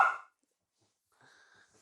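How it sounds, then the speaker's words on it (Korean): A poodle lets out one sharp, loud bark, then falls silent before a faint, thin whine trails off in the background. "송길이는 짖기 바쁜데요."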